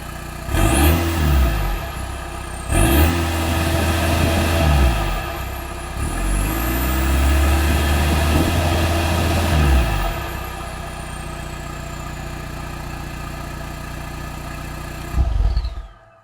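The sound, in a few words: VW TDI engine idling and revving with new downpipe exhaust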